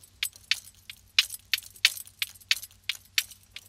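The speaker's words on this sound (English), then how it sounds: "so that kind of jangly pen sound only comes through as ear candy every now and then in the mix" Jangly, metallic pen clatter from a jar-of-pens drum preset, landing as a dozen or so short bright rattles in a loose beat-like rhythm over a low steady hum, fairly close and moderately loud.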